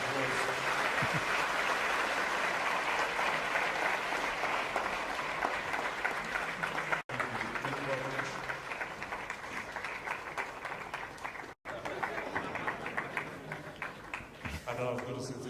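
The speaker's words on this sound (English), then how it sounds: "Ladies and gentlemen, the Sadhguru, a round of applause." Sustained audience applause greets Sadhguru at a live interview event, loud and continuous for the full length with a couple of brief cut-outs and faint voices beneath.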